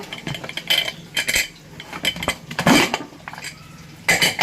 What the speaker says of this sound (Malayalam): നമ്മളെ കുക്കർ അപ്പം ഞാൻ ഒന്ന് തുറന്ന് നോക്കട്ടെ